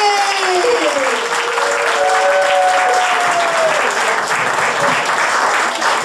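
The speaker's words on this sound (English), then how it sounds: "That was an interesting round of applause." Loud, continuous applause and cheering fill a comedy night crowd at The Vic in Swindon, with a tonal whistle-like sweep running through the steady clapping.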